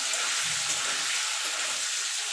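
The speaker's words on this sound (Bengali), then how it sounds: "হালকা করে ভেজে নেবো খুব কড়া করে ভাজবো না পনির" Paneer pieces fry lightly in hot oil, giving a continuous, loud, close sizzle with a soft bubbling crackle and no voices.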